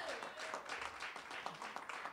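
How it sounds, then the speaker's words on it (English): Audience applause at a lecture series event, a soft, fairly distant wash of clapping with some individual claps standing out, and a little voice mixed in. "How about a round of applause for Waleska Lugo de Jesus?"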